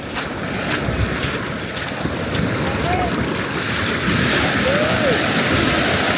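A waterfall near Botanical and Sombrio beaches on the Juan de Fuca coast at Port Renfrew roars as a broad, constant rush of water, mixed with wind buffeting the microphone.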